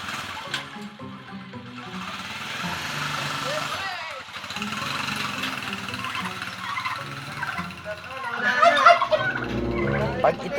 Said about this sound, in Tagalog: Apat na pabo na iuuwi namin.